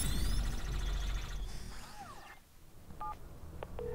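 Phone dialing a call in the video game Watch Dogs: a series of short electronic DTMF tones near the end, after a stretch of dense game music and effects, clear and fairly loud.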